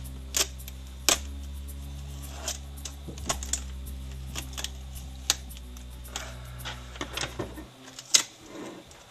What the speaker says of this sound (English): I'm gonna go ahead and take this tape off.